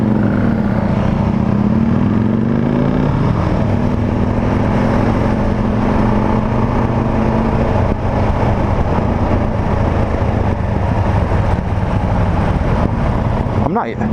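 A 2019 Husqvarna 701 Vitpilen single-cylinder motorcycle fitted with an Akrapovic exhaust runs steadily close by, a continuous low throbbing rumble that holds for the whole stretch, with wind buffeting the microphone.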